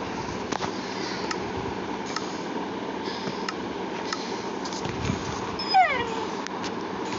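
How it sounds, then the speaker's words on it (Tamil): A Minecraft dog whimpers faintly during a thunderstorm, with soft high yips over a steady rain-like hiss and a brief whine near the end. "தண்டர் ஸ்டாம் நாய் பயப்படுது பாருங்க"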